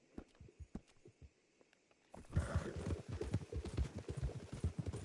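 A horse gallops in a Red Dead Redemption 2 race, its rhythmic hoofbeats pounding steadily, quieter at first and then louder and busier with rushing noise as the run picks up.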